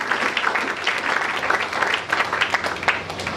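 A church congregation claps together in steady, dense applause that fills the space evenly from start to finish, with no single clap standing out.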